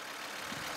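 Volvo C70 2.0-litre turbocharged five-cylinder engine, a 2004 convertible, idling with a steady, even hum that holds at a constant level for under a second, with no voices.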